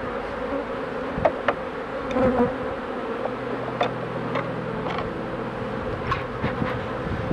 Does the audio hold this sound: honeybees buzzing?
yes